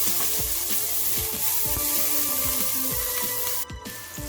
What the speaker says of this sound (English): we'll just bring our onion. Fry it like for 3 minutes.